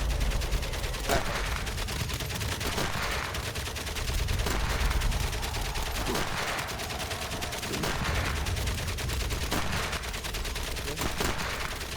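Repeated gunfire from the World War I video game Soldat Inconnu, with sharp shots cracking at irregular intervals over a constant rumbling battle background, moderately loud and with no voices.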